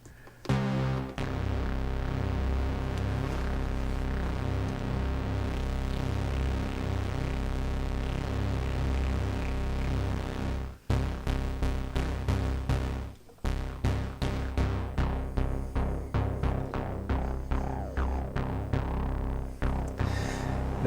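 WMD modular synthesizer oscillators drone steadily for a long stretch, then turn into pulsing, rhythmic repeated tones after two short breaks, moderately quiet throughout.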